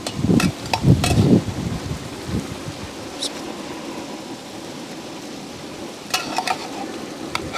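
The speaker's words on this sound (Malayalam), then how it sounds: "ഇനി അതിലേക്ക് നമുക്ക് റൈസ് വെട്ടിയിടാവേ" Rice is stirred into boiling masala in a pressure cooker for egg biryani, with loud scraping spoon strokes at the start and again near the end over a low bubbling simmer.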